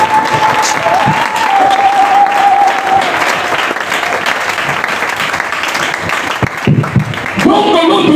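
A church congregation at a Sunday assembly of saints in Kianza claps together in loud, sustained applause, with a singing voice and crowd noise mixed through it, tapering briefly before swelling again at the end.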